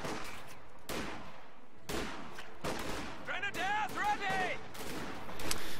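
Rifle fire from Volksgrenadiers engaging riflemen at maximum range in a real-time strategy game, several sharp bursts of gunfire spaced about a second apart, with whistling ricochet-like tones in the middle and game ambience underneath.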